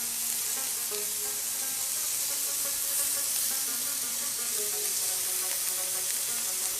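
Continuous sizzling hiss of beef frying on a hot iron teppanyaki plate, steady and close, with no voices.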